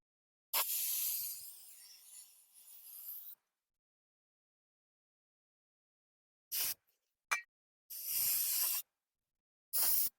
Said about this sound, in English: we're gonna clean the rotor where the brakes are gonna grab with the brake parts cleaner